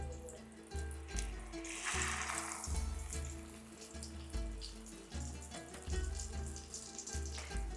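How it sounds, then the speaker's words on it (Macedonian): Ushtipci fried dough fritters with minced meat sizzle steadily in hot oil, a continuous crackling hiss heard up close with no talking. "Уштипците така си се пржат."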